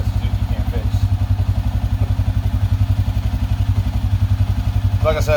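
A 2007 Suzuki King Quad ATV, prone to stalling when its fan kicks on, idles with a steady, rapid low thumping pulse close to the microphone; a voice briefly surfaces near the end.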